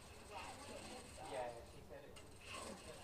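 An overlocker sews the side seams of a t-shirt with a steady, quiet mechanical whir and rhythmic rattle that swells slightly in passes.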